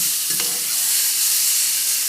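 Mexican rice being mixed with poured sauce in a hot pan, giving a steady loud steamy hiss with a brief stirring scrape near the start, close up and without talk.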